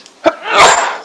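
A single sharp sneeze bursts out near the start, followed by a longer breathy, hissing exhale or rustle trailing off.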